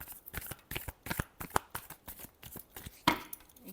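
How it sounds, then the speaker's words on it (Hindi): A deck of tarot cards being shuffled up close, giving quick bursts of riffling and flicking in an uneven rhythm, ending with a sharper snap near the finish. "last shuffle"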